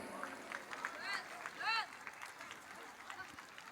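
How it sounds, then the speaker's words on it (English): Audience applause at a school foundation day event, a soft, distant patter of clapping with a few whoops and scattered voices in the crowd. "Let's give a mighty clap for that multilingual display."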